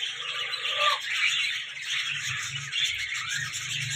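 Breeding pair of parrots squawking with a busy, continuous run of harsh calls and chirps, fairly close and loud, with no talking.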